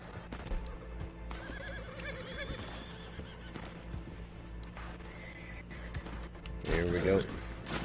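Horse in Red Dead Online neighing and whinnying, one loud agitated whinny near the end after quieter hoof clops and faint background sounds across the stretch.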